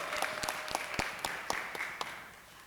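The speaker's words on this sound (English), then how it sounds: "Y'all clap it up for Miss Monroe." Clapping from an audience at a school day of non-violence and peace event, sparse and uneven with distinct individual claps over a thin crowd wash, fading slightly toward the end.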